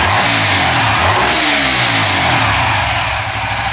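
A bored-up 68mm Suzuki FU 150 FI motorcycle engine, hot and freshly tuned on an Apitech ECU, revs loudly up and back down close by, with a rough, throaty tone.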